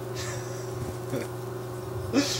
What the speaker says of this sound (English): They're walking through a bee's nest.